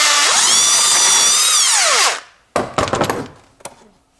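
A power tool with a 10mm socket spins continuously for about two seconds while tightening a metal hose clamp on a Toyota air filter hose, then winds down, followed by a few loud clanks and knocks from the work up close.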